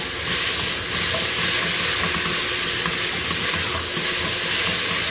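Garlic frying in a pan after onion, a steady close sizzle and hiss with faint stirring scrapes throughout, no voices.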